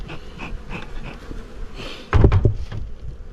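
Honeybees buzz around an opened hive box after winter, a steady low hum throughout that swells louder and closer near the end.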